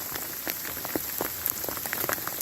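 Hail pelts the ground in a heavy storm, making a dense, steady patter with scattered sharper impacts standing out throughout, and no voices.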